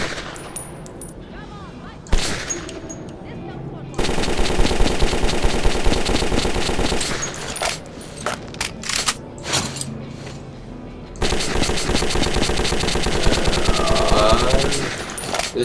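Rapid automatic weapon fire on a firing range in Metro 2033, loud dense bursts with short pauses between volleys, some sparser single shots, alone without talk.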